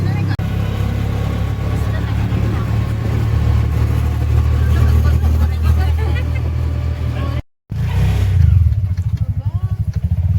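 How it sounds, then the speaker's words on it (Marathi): Steady, loud engine drone with rattling from an auto rickshaw ride on the way to Hampi's temples, running continuously under talking voices, with one brief dropout near the end. "आपण त्याच्याने चाललो आहे ऑटोने"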